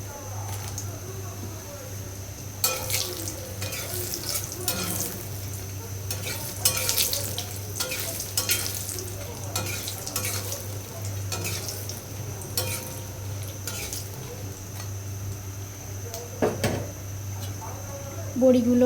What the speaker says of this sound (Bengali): ওর মধ্যে বড়িগুলো ডুবো তেলে ভেজে তুলে রাখবো।